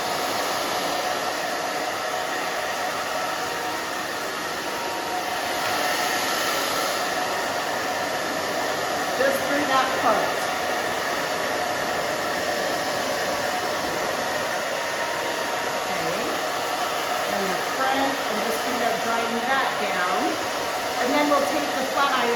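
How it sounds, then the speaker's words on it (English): A hair dryer drying a pixie cut with bangs, blowing straight down with a round brush: a steady, loud, close whooshing drone that runs without a break, with faint brushing movement underneath. "So I'm just drying straight down."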